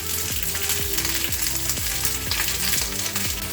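Sliced onion pieces fry in a pan for an Indian paneer vegetable curry, giving a steady, close, bright sizzle that runs throughout, with faint tonal sounds underneath.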